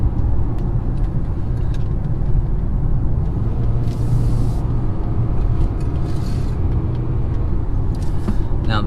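Interior road noise from a 2018 Mazda CX-5 small crossover being driven, a steady low engine and tire rumble with faint passing sounds.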